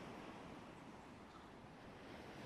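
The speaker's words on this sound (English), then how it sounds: "Can you hear the sea?" Sea waves wash steadily on the shore, a broad, continuous roar mixed with wind buffeting the microphone, with no talking.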